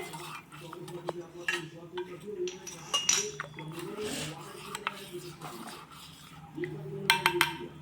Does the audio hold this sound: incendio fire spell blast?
no